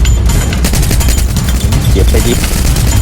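Dense, loud gunfire fills a Free Fire battle royale match, continuous bursts of shots with game noise throughout and players' voices in the background.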